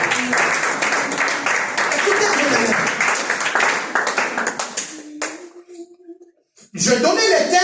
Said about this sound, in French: je pensais que tu allais applaudir pour la gloire de Dieu